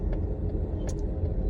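Cars pass on a busy road with a steady low traffic rumble heard from inside a vehicle, with a couple of faint brief higher noises and no talking.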